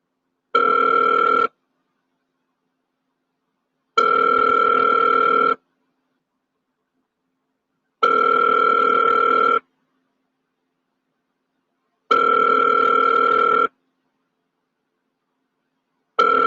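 Telephone ringback tone on an outgoing call to a sheriff's deputy, four long evenly spaced rings with silent gaps between them, clear and close with no talking.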